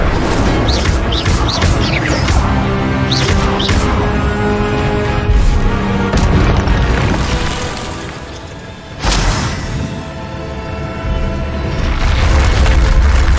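An Incendio fire spell from the video game Hogwarts Legacy blasts out amid loud, cluttered combat effects, with several sharp bursts and crackling, splintering hits over a booming low rumble, and one sudden explosive burst midway.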